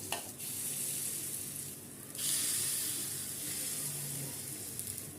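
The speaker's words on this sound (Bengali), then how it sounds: "দিয়ে আগেরগুলোর মতনই ভালো করে মচমচে করে ভেজে নেব" Sooji appam batter fries in oil in the cups of an appam pan, a steady close sizzle and hiss that swells louder partway through, with faint clinks from utensils.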